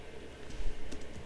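Quick, soft clicks of a Mac computer keyboard being typed on, an irregular rapid patter of keystrokes heard close up for just over a second.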